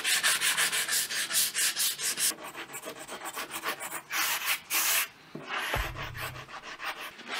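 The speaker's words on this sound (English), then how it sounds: "now that I got that all sanded down" Hand sanding to scuff the paint on a 2015 Chevrolet Silverado 2500HD: rhythmic back-and-forth abrasive rubbing strokes, close and fairly loud, faster at first, then slower with brief pauses.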